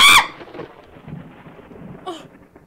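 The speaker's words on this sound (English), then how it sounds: "You got a tornado storm too?" A thunderstorm with rain in the horror video game Danny's House: a loud thunder crack opens, followed by steady rain hiss and a softer rumble near the end.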